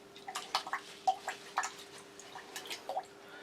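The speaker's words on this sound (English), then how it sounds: "Rinse my spoon." A spoon rinsed in a little water, a series of small close drips, clinks and sloshes in an irregular run over a faint steady hum.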